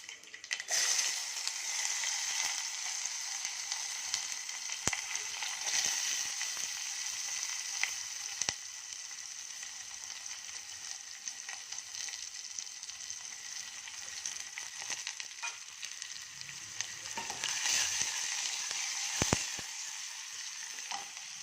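Onion, garlic and tomato frying in a pan with curry leaves for a gooseberry rasam, a steady bright sizzle that flares up now and then with a few stirring scrapes, close and continuous with no talk.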